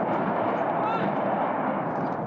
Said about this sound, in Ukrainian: Це снаряди з військового складу у Балаклії.